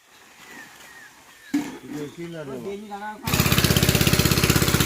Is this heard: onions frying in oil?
no